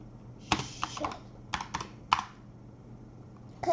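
A handful of sharp, separate computer keyboard key presses at irregular intervals, close and fairly loud, during a Roblox Brookhaven session, with faint talking in the background.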